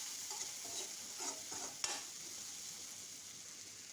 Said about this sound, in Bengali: দিয়ে নেড়ে চেড়ে দিচ্ছি।